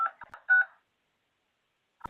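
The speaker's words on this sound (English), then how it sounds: "Enter your access code or meeting number followed by pound." Telephone keypad tones sound as a WebEx meeting code is entered, a quick run of short beeps followed by a pause and then another brief burst of tones, with no voices.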